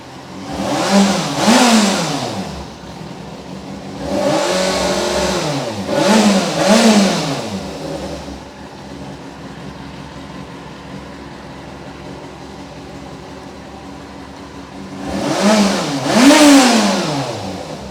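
A Yamaha FZ6 motorcycle engine with 71,000 km revs hard in repeated bursts, climbing and falling between stretches of steady idling, close and loud with no talking.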